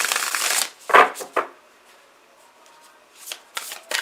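Oracle cards being shuffled by hand, a few close, crisp riffling swishes at the start and again near the end, with quiet gaps between.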